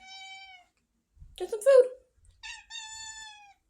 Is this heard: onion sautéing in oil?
no